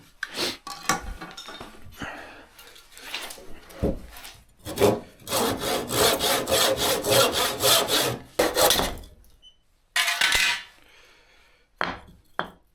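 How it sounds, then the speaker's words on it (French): A handsaw cuts through wood, a wooden batten being trimmed to length by hand, with rhythmic rasping strokes in uneven bursts, some long and sustained, broken by short pauses and knocks, close and fairly loud. "je sais pas couper droit la scie"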